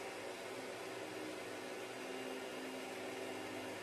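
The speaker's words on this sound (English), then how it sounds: "I'm about to go sit under the dryer for about 30, 35 minutes" A hood hair dryer runs steadily with a constant, even whir of blowing air and motor hum, close and unchanging throughout.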